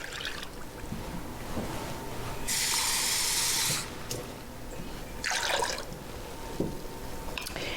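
Water poured into a mixing bowl for a baking recipe, two separate bursts of close splashing pour, the first longer and louder, over a quiet room background.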